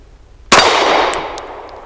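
A pistol shot from a Sig P365 Fuse with a 4.3 inch barrel rings a small swinging steel target, giving one sharp loud clang that decays over a second and a half, with faint ticks as the plate swings.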